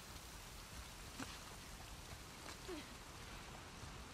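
Steady rain hisses throughout a dark night scene in the video game The Last of Us Part II, a constant broadband wash with a few faint splashes and no talk.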